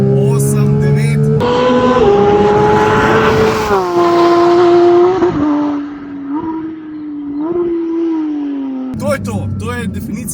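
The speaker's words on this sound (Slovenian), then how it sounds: "motor, kako se dere, tam med 7 pa 8, 9 tisoč vrtlaji" A Porsche GT3 Touring engine revs loud and close, climbing to high rpm with steady rising and falling pitch sweeps, and someone talks over it.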